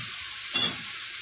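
A sudden burst of loud sizzling as garlic-ginger paste hits a hot pan of frying minced meat, rising over a steady background frying hiss, then settling back.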